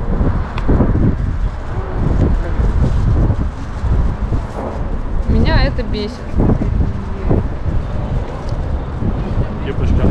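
Wind gusts steadily across the microphone outdoors on a walk through Moscow, a dense low rumble that never lets up, with people talking over it.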